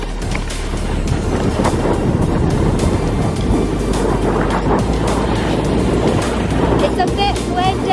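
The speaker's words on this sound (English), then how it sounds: "It's a bit windy!" Strong wind buffets the microphone on a rocky shore while rockpooling on the Isle of Sheppey, a loud, steady broadband roar with surf-like rushing throughout.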